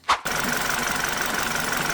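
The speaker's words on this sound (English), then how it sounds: "I'll start the car now" An ex-police BMW G31 car engine cranks briefly with a loud burst, then catches and settles into a steady, even idle hum that continues to the end.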